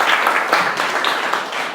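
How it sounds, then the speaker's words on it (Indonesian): An audience in a classroom claps for Antika, a brief, fairly loud burst of applause with no voices over it. "tepuk tangan dulu untuk Antika"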